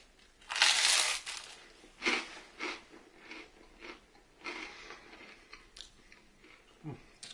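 Dry toast with honey is bitten and chewed up close: a loud crunchy first bite, then a series of softer crumbly chewing crunches at uneven intervals, quiet overall with no talk.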